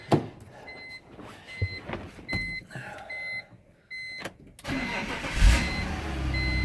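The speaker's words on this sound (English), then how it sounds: "What I'm gonna do now is I'm gonna start the car." A 2003 BMW 330ci's engine cranks and catches, with short clicks and whirs at first, then the starter turns over and the motor settles into a steady, close idle rumble.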